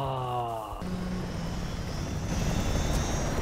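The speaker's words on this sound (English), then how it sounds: "Oh, other chopper. The gunner chopper." Helicopter in the video game Battlefield: Bad Company 2 gives a steady, loud rotor and engine drone with a rising tonal whine, continuous throughout.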